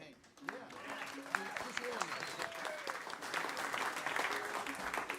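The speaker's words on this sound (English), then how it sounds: "give him a big hand." An audience at a live show gives a performer a big round of applause, steady clapping from a crowd that swells and holds for several seconds, with a voice speaking over it.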